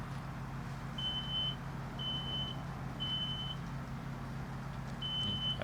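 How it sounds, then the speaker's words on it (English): A smoke alarm sounds four evenly spaced high-pitched beeps, about one per second, over a steady low background hum in a smoke-filling room. "Smoke alarm goes off at just over a minute."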